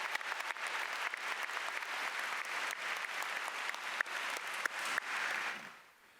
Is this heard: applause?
yes